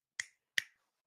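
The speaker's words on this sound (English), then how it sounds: "Snap your fingers." Two crisp finger snaps, close and fairly quiet, spaced about a third of a second apart, with silence around them.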